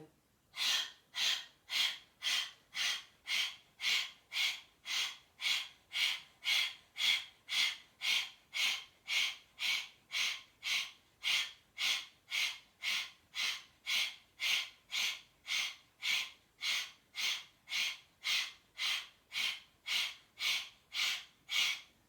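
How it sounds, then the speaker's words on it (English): Rapid belly breathing drill, about thirty quick forceful breaths in steady even rhythm, each a sharp breathy puff, close and loud with no talking. "So that was belly breathing."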